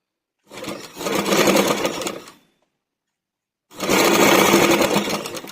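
A sewing machine stitches piping onto a Kalamkari blouse in two loud, close bursts of rapid whirring, separated by about a second of silence.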